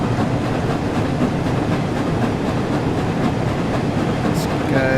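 Train running on the East Coast Main Line between Peterborough and Doncaster in Train Sim World 4, a steady, loud rumble and rolling wheel noise that continues without a break.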